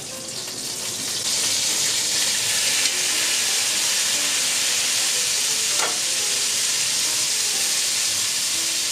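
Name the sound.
tomatoes sizzling in pan with onion and garlic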